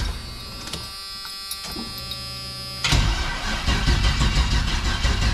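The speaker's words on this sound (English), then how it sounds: "Does not have enough voltage to crank." A hot rod's starter cranks on a weak, low-voltage battery and fails to turn the engine fast enough. A steady electrical whir and hum turns into a louder, rougher grinding drone partway through, with no talking.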